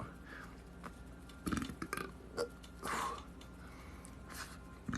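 A few soft, low burps scattered through quiet background, brief and close, with no talking.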